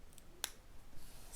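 Small sewing snips make a single quick, crisp cut at fabric corners near a stitch line on a child's dress bodice, briefly standing out against a quiet room.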